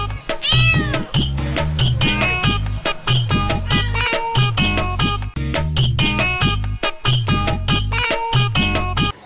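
A cat in a village house meows over and over, loud and close, with a steady string of insistent calls and only brief pauses, over a low rhythmic background.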